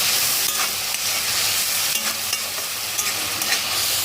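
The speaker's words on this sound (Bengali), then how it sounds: "এখন এগুলোকে হালকা করে একটু ভেজে নিচ্ছি।" Shrimp and chopped spiny gourd fry with salt and turmeric in a hot pan, giving a loud, dense, continuous sizzle broken by a few soft stirring scrapes.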